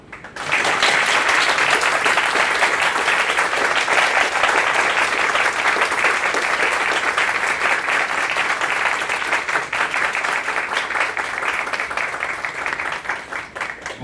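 An audience applauding after a career talk, steady dense clapping from many people that rises quickly and continues at full strength for over thirteen seconds before tapering slightly.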